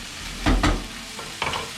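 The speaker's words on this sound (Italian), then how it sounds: "Come vedete qua si stanno cuocendo tutti i cicciolini" Diced pancetta frying in a pan for linguine alla carbonara, a close crackling sizzle with a few louder bursts as it is stirred, no speech.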